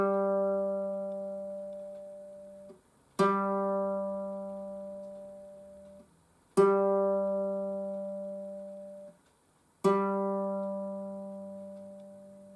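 A single low G ukulele string is plucked four times in a slow, even rhythm, each note ringing out and fading before the next pluck.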